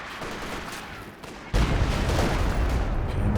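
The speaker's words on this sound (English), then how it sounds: "He's firing now." Gunfire in Company of Heroes 2 during a 1v1 match, a muffled barrage that suddenly jumps louder midway into a dense, sustained roar of shots and artillery-like rumble.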